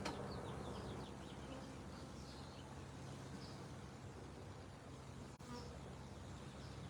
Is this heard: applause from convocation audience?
no